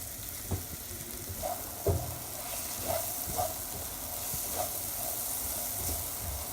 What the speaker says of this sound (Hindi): हाई फ्लेम पर ज़्यादा ये कुकिंग होती है तो आप चम्मच में सलसल चलाते रहिए।